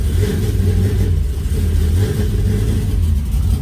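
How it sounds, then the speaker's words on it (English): A V8 car engine, with a 1JZ engine mentioned, runs loud and close with a steady throaty rumble and slight rises in revs throughout, no speech over it. "I'm just gonna start my V8 car."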